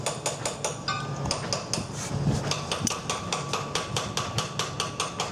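A wrench with an extension bar works a nut loose on a Yanmar SD50 saildrive during an oil seal change, giving a steady series of sharp metallic clicks and knocks close by.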